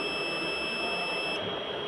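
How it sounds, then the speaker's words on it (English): A multimeter continuity tester gives a steady, high-pitched electronic beep continuously without a break over faint background hiss. "The beeping sound is continuous, meaning this particular side is complete."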